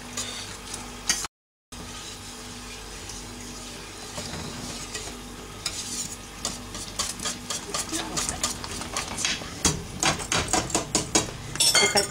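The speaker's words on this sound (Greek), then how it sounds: "Ανακατεύουμε το σύρμα." A wire whisk stirring flour into boiling salted water in a pot, heard as repeated scraping and clinking strokes that grow faster and louder toward the end, with faint kitchen background.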